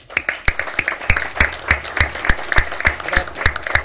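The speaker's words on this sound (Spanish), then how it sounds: "Creo que se merecen un gran aplauso porque tenemos una mesa de lujo el día de hoy" An audience at a public forum on independent candidacies applauds the panel: loud, close clapping with sharp individual claps at a brisk, fairly even rhythm, sustained for about four seconds without speech.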